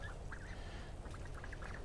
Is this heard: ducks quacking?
yes